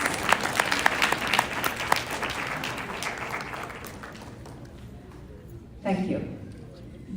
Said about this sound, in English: Can we just give them a big round of applause, please?